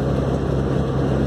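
A truck accelerating on the BR-316 highway, a steady loud engine drone with strong low rumble and road noise throughout, up close and without talk.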